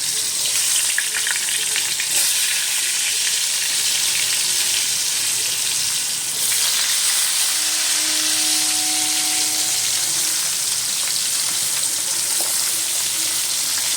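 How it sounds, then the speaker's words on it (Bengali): Round-sliced potatoes frying in oil make a loud, continuous hiss and crackle close by, a dense sizzle that runs unbroken for fourteen seconds with faint stirring and a brief thin tone partway through. "আমি আলু গোল গোল করে কেটে নিয়েছি, তেলে ছেড়ে দিলাম।"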